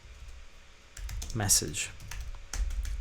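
Computer keyboard typing, a quick cluster of light clicking keystrokes heard close up while someone speaks over part of it.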